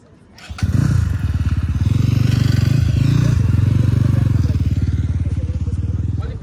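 A motorcycle engine at a bike training ground rumbles close by with a steady, throbbing idle that swells slightly and holds for several seconds.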